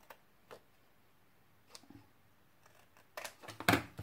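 Scissors trimming around a paper bookmark card, a few sparse crisp snips and clicks over quiet, ending in a louder cluster of cuts close by.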